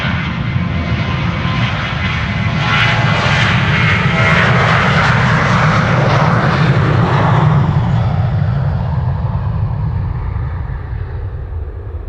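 A KLM Boeing 737-800 departing on a flight to Athens from Amsterdam Schiphol Airport, its jet engines producing a loud, steady, broad roar close by that swells and then slowly fades as it climbs away.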